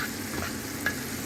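Dal with tomatoes simmers and sizzles in a pan after the tempering, a short, steady frying hiss with faint stirring and no voices.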